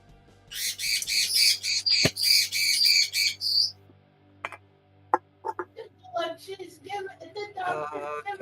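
A pet bird squawks loudly in a rapid run of harsh, close calls for several seconds, followed by scattered sharper squawks and clicks, with some muffled background sounds.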